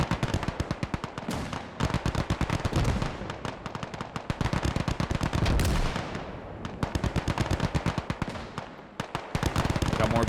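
Dense bursts of automatic gunfire ring out around a hilltop firebase during a Vietnam War video game battle, rapid overlapping shots with short gaps, loud and continuous, with talk mixed in.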